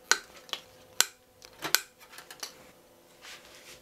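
Cutters snip number 12 stainless steel leader wire into short pieces for lure making, giving sharp metallic clicks at about half-second intervals that are close and distinct, then trail off into quieter handling noises.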